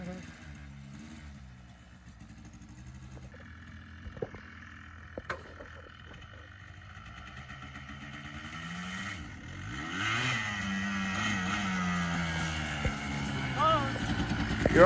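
A quad ATV engine idles, then rises into a revving drone as it is given gas, with sharp clicks and talk in the background while the engine note grows louder toward the end.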